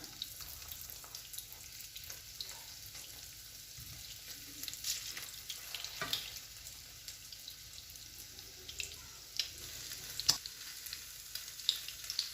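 Quiet, steady sizzling of bread frying in a pan, both sides browned, with occasional faint clinks and scrapes throughout.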